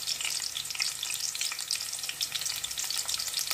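Stuffed karela (bitter gourd) frying in a pan, a dense, even crackling sizzle with soft stirring scrapes, close and continuous with no voices.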